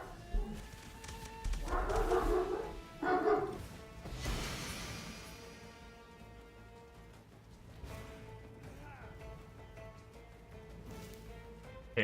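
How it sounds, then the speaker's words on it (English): A dog barks in the background in short bursts early on, then quieter yips, all faint and distant beneath steady music-like tones. "you guys can enjoy some dog barking in the background while I check"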